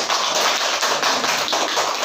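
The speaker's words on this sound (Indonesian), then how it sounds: "Oke, tepuk tangan dulu." Students at a nursing academy teaching session applaud after a simulation, a close, bright patter of clapping that stays fairly even across two seconds.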